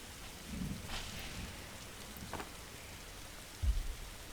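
Steady rain hisses through a video game forest as a constant broadband wash, with a few low rumbling thumps, the strongest near the end.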